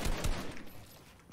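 A couple of sharp gunshots ring out up front in a video game, followed by fainter scattered firing and a lingering rumble.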